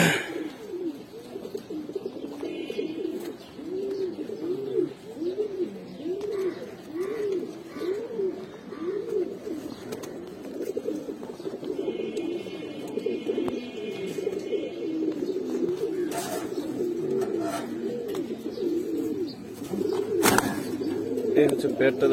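Large pigeons at a seller's loft, including giribaz, chila, green-necked and black-necked birds, give a rhythmic run of repeated soft coos that rise and fall steadily, with a few sharp clicks and light background noise.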